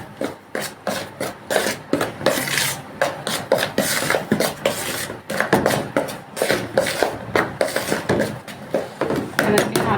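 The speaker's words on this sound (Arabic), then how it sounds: "وهنقلب دي كل المكونات دي كلها مع بعضيها" A spoon scrapes and stirs a thick batter for fried cauliflower in a bowl, giving repeated close rasping strokes in an uneven rhythm.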